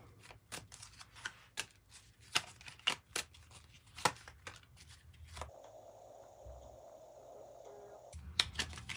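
A Kipper fortune-telling card deck is shuffled in quick riffling bursts of crisp, close card slaps, then a short pause filled by a faint hum before more shuffling resumes at the end.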